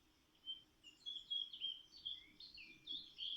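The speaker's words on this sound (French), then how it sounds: "Vous entendez dans les arbres le tintamarre des oiseaux." Birds chirp and twitter in the trees of a quiet, empty park in the early morning, a steady stream of thin high calls at moderate distance over faint low background hum, no talk.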